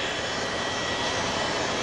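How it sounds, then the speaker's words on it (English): Airplane jet engines running on an airliner, a steady, loud, even roar that fills the whole moment without a break or change in level. "Those are the engines, and they push the airplane through the air."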